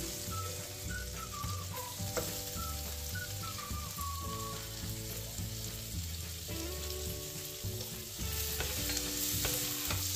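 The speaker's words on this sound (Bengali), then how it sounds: "এবার আমি দিয়ে দেবো থেঁতো করা রসুন।" Crushed garlic sizzling in melted butter on a hot tawa, a dense continuous frying hiss with steady crackle throughout, close up and even in level, no voices.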